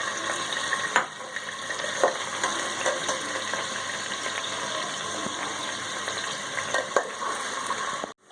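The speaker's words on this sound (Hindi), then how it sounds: "हमने ये मीडियम फ्लेम पर इसको प्याज को, जीरा और लहसुन को फ्राई किया है।" Onion, garlic and cumin fry on a medium flame, giving a continuous close sizzle with occasional sharp clicks of stirring across the pan, with no voices.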